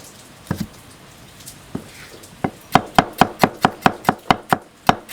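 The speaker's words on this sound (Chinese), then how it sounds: "把这个笋切一下，这要切碎。" A knife chops salt-pickled bamboo shoots on a board, a few scattered strokes then a steady run of about a dozen sharp, evenly spaced chops.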